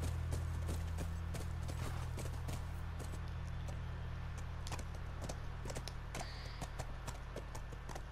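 In the video game The Last of Us, horse hooves clip-clop at an even pace as a steady series of sharp taps over a constant low background hum, with no talking.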